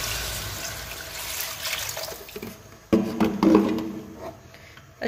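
Water is poured into a cooking pot, a splashing rush that swells near the end after a stretch of softer background noise, close and moderately loud.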